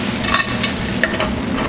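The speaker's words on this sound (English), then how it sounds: "So we're gonna start sauteing the spinach with the garlic, raisins, pistachios, roasted pistachios" Spinach with garlic, raisins and roasted pistachios sautéing in a pan in a tapas restaurant kitchen, a steady close sizzle with light stirring scrapes.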